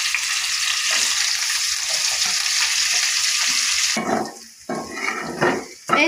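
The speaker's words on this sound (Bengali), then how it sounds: "আর এখন ওই তেলের ভিতরে ফুলকপিগুলো দিয়ে দিচ্ছে," Cauliflower florets fry in hot oil in a pan, giving a loud, steady, close sizzle that breaks off into softer bubbling and stirring clatter near the end.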